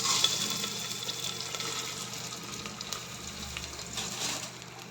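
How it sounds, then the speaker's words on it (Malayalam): Washed, drained rice is sautéed in a pan with cardamom and fennel seeds for a mackerel fish biryani, giving a steady soft sizzle and stirring rustle with no talk. "റൈസ് ചെറുതായിട്ടൊന്ന് വഴറ്റിയെടുക്കാം."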